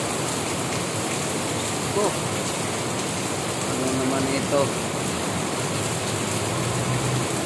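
Heavy rain pours steadily over Subic Bay, a dense, constant hiss filling the whole clip, with a person speaking briefly over it.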